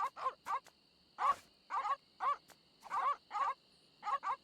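Cartoonish dog barks from the Monkey Island video game come in a quick, uneven series of about a dozen short yaps and whimpers, close and prominent over a faint steady tone.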